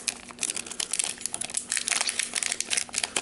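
Crinkly plastic foil of a vintage first-edition Base Set Pokémon booster pack being torn open and crumpled by hand, a steady close-up rustling and crackling that runs throughout without pause.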